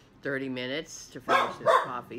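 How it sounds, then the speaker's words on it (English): A pet dog barks and yips in a short, close burst of a few sharp calls, heard just after a person speaks at breakfast time over morning coffee. "Well, that's my dog."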